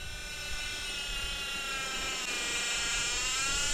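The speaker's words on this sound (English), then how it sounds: "Back comes the drone." A camera drone used for drone fishing flies back overhead, its high, steady buzzing whine holding throughout and growing slightly louder as it approaches.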